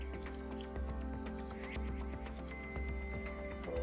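A horse neighs in the Horse Reality video game, with game music and a steady low hum underneath. It is fairly quiet, with faint hoof clip-clop and small high chirps scattered through the clip. Nobody speaks.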